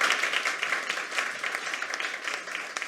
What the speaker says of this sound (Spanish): E uma salva de palmas para os nossos colegas.